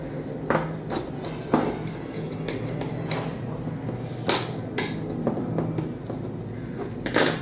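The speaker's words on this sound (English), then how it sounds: "So I'm just tightening" Bolts being tightened to pull a wooden bar into position, with scattered metallic clicks and knocks of a wrench and nuts over a low steady hum, some impacts louder and close.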